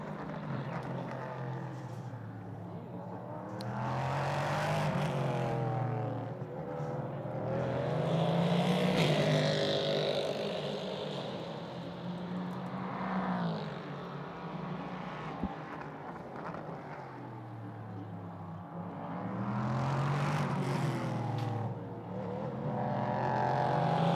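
Prototype race cars, Nova and LMP3 machines with 500-horsepower V8 engines, race at Magny-Cours in the European Prototype Sprint Cup, a continuous loud engine drone that swells and fades as cars pass, with faint commentary underneath.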